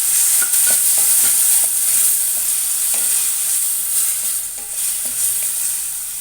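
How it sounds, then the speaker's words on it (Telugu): Pureed tomato from two tomatoes fries in a pan for an eggplant, chana dal and tomato curry, with a bright hiss and light, intermittent utensil taps and scrapes nearby, no talk. "ఇందులో టమాటా ప్యూరీ వేద్దాము."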